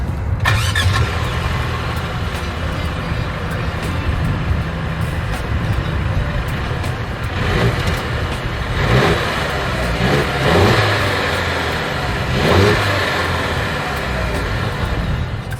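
A 2023 Mercedes-Benz GLC 300 Coupe engine starts and idles, then revs several times, the exhaust roaring in bursts before settling back to a rumble.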